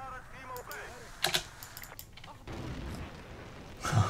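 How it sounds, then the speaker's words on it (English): Sharp bursts of gunfire and booming blasts from Battlefield 2 online multiplayer, scattered and fairly quiet, with a voice talking between them. "A lot of explosions."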